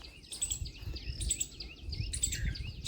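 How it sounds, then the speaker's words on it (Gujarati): Sparrows chirp in an orchard with mango and guava trees, making bright, quick bursts of twittering calls in clusters over a low outdoor rumble. "એટલે આમ કિલવિલાટ થાય ચકલાઓનો"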